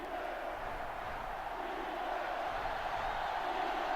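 Stadium crowd in the NCAA Football 2005 video game: a steady, loud wash of roaring fans with no breaks, holding level for the whole stretch.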